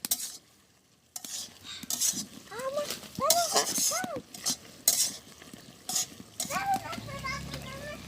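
Jute leaf curry stirred and frying in a pot in a village kitchen, with scraping strokes and a soft sizzle, while high chirping sounds, likely birds, and background voices and children are heard.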